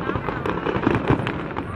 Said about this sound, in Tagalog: Fireworks muna.